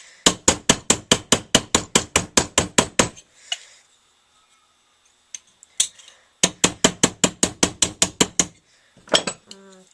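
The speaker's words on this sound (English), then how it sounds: "then I'll just continue hammering it flat" A hammer strikes a metal money clip flat in rapid, even bursts of ringing blows, two long runs of around fifteen hits each separated by a quiet pause, loud and close.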